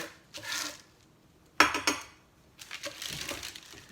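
Scraping leftover dough off pieces of pie crust produces short scratchy scrapes and a sharp knock, in separate bursts with quiet gaps between them, close up.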